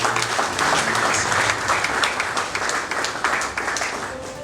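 An audience applauds and cheers for a prophet at a Christian church broadcast event, steady dense clapping sustained loudly throughout without a break.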